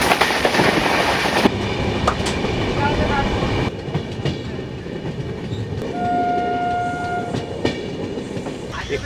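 The 13021 Mithila Express runs at high speed, about 130 km/h, after leaving Muzaffarpur, with a loud steady roar and rattle of the sleeper coach on the rails and a brief horn tone partway through.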